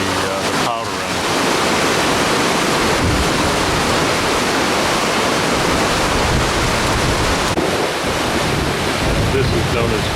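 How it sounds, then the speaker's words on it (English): Children's Falls, a waterfall in Iceland, pours a heavy, steady roar of rushing water throughout, close and loud with wind buffeting the microphone and no talking. "This is known as Children's Falls."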